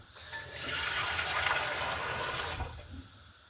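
Water pours into a pot of vegetable stock, a close steady rush that swells and then stops abruptly, leaving quiet room tone.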